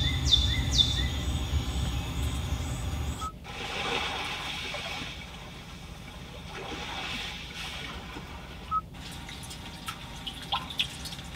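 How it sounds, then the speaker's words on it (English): Nature soundscape played through the cabin speakers of a 2021 Genesis G80: a steady watery, rushing ambience with bird chirps early on, shifting into softer dripping and trickling water with occasional clicks, continuous and moderately quiet. "Sounds of Nature button, you have several different sounds that you can listen to"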